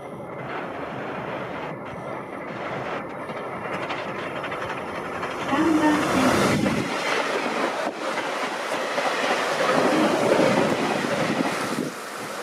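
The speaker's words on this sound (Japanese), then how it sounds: "3番線を列車が通過いたします。" A JR Hokkaido 733 series 3000 train rumbles through Naebo Station on the Hakodate Main Line, a long rushing roar that swells in the middle and stays loud with rattling and wind noise.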